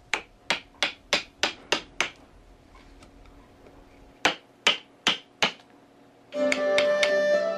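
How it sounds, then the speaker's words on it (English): A chisel is struck while roughing out a Noh mask face from a block of hinoki cypress wood, giving crisp, evenly spaced taps: six in quick succession, a pause, four more, then a steadier noisy sound. "First, he uses a chisel to rough out the face from a block of wood."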